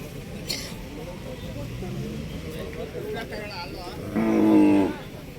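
A low, drawn-out moo from a Hallikar bull near the end, heard over outdoor background noise and scattered voices.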